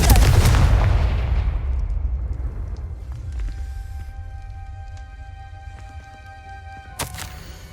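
A Confringo fire spell blasts in Hogwarts Legacy with a loud, booming explosion that rolls into a long, fading rumble. A second sharp burst cracks out near the end, over faint ambient tones.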